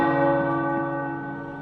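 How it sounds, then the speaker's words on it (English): Tower bells ring in Marvel's Midnight Suns, a loud sustained metallic peal with rich ringing overtones that slowly decays, no voices over it. "The tower bells are ringing."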